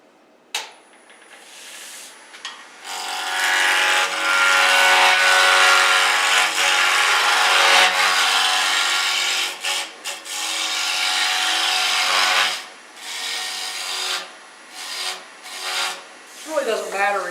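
A wood blank is rough-turned on a lathe during a club meeting. A long stretch of loud, scraping, rushing cutting noise is followed by shorter bursts as the tool is applied and withdrawn, close by with no talk.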